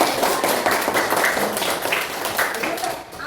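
Children in a fifth-grade elementary religious-education class clap their hands in a quick, uneven patter while a voice talks over it.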